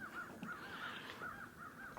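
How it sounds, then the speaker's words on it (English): Crows cawing in a repeating series of harsh calls on a quiet farm, heard at a moderate distance over faint outdoor ambience with no talking. "I hear the birds."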